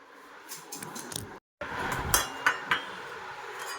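Metal thali plate and utensils clinking in a home kitchen as dinner is handed to a grandfather: scattered light clinks and a few sharp metallic taps, near and fairly quiet, with a brief silent gap.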